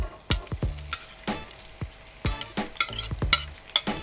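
Onions fry in hot oil with a crackling sizzle, broken by frequent sharp scrapes and knocks of a spoon against the pan, close and lively.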